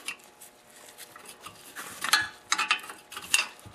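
A nut and OEM Honda shear bolt go onto the auger of a Honda snowblower during an auger gearbox repair, giving a series of close, small metallic clicks and clinks that grow louder and sharper toward the end.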